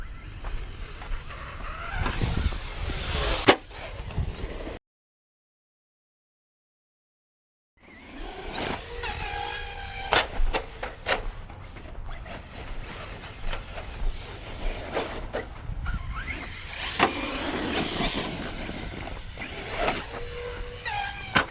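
A Proline Pro MT 4x4 RC truck drives in bursts, its small electric motor whining and revving with scrabbling tyre and gravel noise, cutting to silence for a few seconds before resuming nearby.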